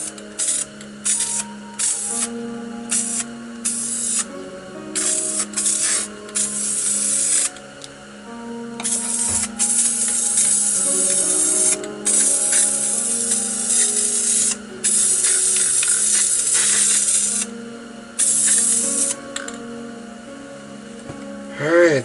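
Repeated hissing bursts of an aerosol spray-paint can spraying black paint, some short and some long, with brief pauses between, close and fairly loud.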